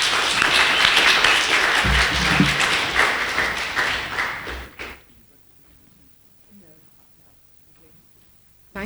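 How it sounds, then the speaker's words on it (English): Church congregation at Kingdom Life Church applauding for about five seconds, loud and dense, then cutting off abruptly into near silence with faint room noise. "Let's give them a round of applause"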